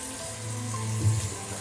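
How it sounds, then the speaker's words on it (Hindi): Chicken biryani ingredients frying in a pan: a soft, steady sizzle and watery hiss runs continuously at moderate volume, with a faint low hum beneath. "इसको अच्छे से फ्राई कर लेंगे"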